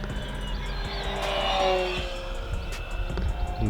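A beginner Arrows Trekker RC plane makes a full-throttle pass, its electric motor whine rising and sweeping in pitch as it flies by, moderately close under outdoor background noise.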